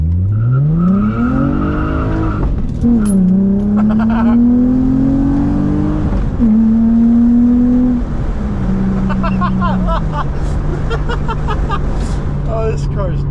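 An Infiniti G35 engine and exhaust rumble steadily during everyday driving, a low droning tone rising and falling with throttle through gear changes, close and loud, with a voice talking over it.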